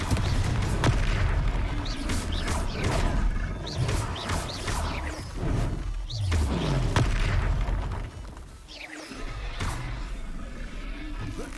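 A fiery Confringo blast spell from a magic-themed video game, heard as a series of loud booms and bursts over dense game noise and music, with a deep rumbling sweep midway and a brief dip near the end.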